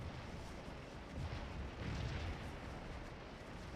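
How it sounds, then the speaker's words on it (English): Artillery firing at range in Scourge of War: Antietam, a Civil War battle game: a steady, muffled rumble of distant cannon fire with a slight swell partway through and no distinct single blasts. "Artillery is firing mostly at range here."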